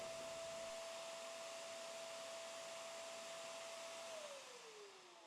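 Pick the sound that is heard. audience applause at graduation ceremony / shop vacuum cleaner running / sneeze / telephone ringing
shop vacuum cleaner running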